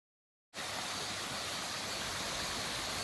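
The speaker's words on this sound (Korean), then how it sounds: "산에서 내려오는 길에는 계곡물이 흐르고 있었습니다" Constant rushing water of a mountain valley stream flows steadily, tumbling over rocks, starting abruptly and continuing evenly without pause.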